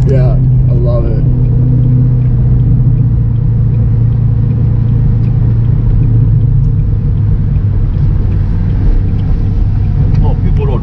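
Straight-piped Ford GT in an underground parking lot, a loud continuous deep exhaust rumble filling the space throughout, with a voice talking briefly at the start.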